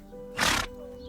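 A horse gives a single short, breathy snort or neigh as a sound effect, a loud burst lasting about a quarter second against a quiet, steady background.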